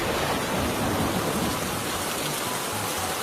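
Rain falls steadily and heavily, a dense, even hiss of drops with no voices over it.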